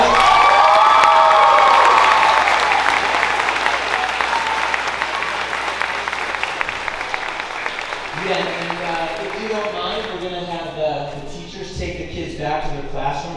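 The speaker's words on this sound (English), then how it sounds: "Give them one more round of applause." A school audience applauds and cheers after a kindergarten musical, loud sustained clapping that gradually thins out while children's voices and chatter rise over it.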